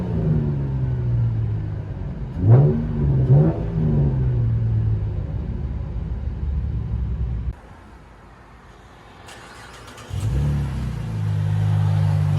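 A 2014 Chevy Camaro RS V6 with dual straight-pipe exhaust rumbles loudly from inside the car, giving two sharp revs over a steady idle, dropping quiet for a couple of seconds, then settling back into a deep idle.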